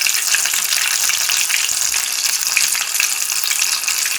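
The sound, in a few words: sabudana vada deep-frying in a kadai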